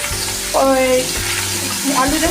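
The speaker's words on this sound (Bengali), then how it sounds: "দেখো তেল কিন্তু একদম গরমই আছে" Hot oil crackles and sizzles continuously at close range, with a sudden louder burst as food goes into the pan, over a low steady tonal hum.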